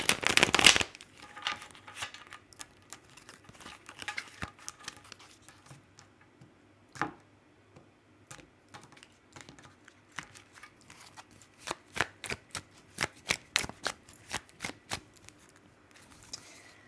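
Tarot cards are shuffled and handled close up, giving bursts of crisp riffling and soft flicks. Dense patters at the start give way to scattered taps and ruffles that grow busier toward the end.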